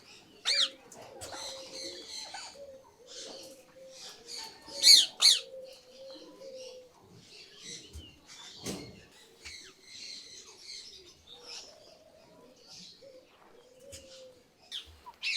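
Pet birds including parakeets coo, chirp and squawk over soft feed on a winter morning, a busy overlapping chatter with a few louder squawks near the middle and faint voices in the background.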